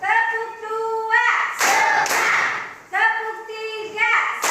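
Children in an Indonesian classroom perform a call-and-response clapping routine, with a few sharp hand claps striking between stretches of a teacher speaking.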